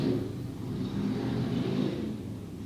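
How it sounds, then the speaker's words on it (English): Motorcycle engines drone and rumble in the background, a steady roar of a group of motorcycles passing at a moderate distance, with no talking. "that was a motorcycle gang going back"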